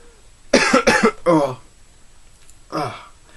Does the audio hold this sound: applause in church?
no